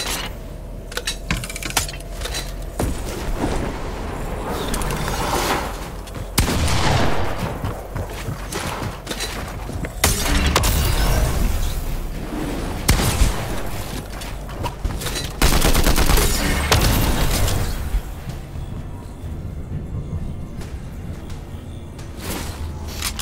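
Rapid gunfire bursts and grenade explosions in the Fortnite video game, dense and loud throughout with sharp crackling shots and heavier booms layered together, no talking.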